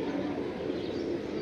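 Pet pigeons, including a Teddy pair, coo softly in a steady low murmur with a few faint chirps, close by and without talk.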